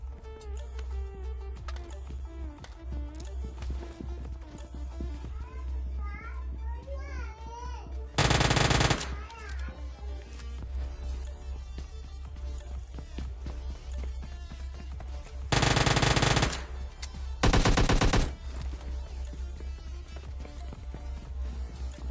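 Gunfire in the mobile battle royale PUBG Lite during a solo versus squad fight, with several short loud bursts of automatic fire over busy game sounds and music.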